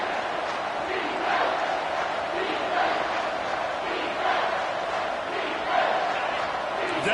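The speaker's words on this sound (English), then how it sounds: "Decibels rising as the crowd gets behind this defense on third down." Stadium crowd at a football game roaring steadily on a third-down defensive stand, a dense, sustained wall of cheering with swells and no clear voices standing out.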